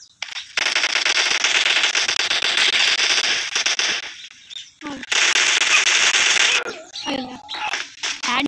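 Automatic gunfire in the mobile game PUBG Mobile rattles in two long, loud, sustained bursts, followed by scattered shorter shots and crackles with brief pauses between.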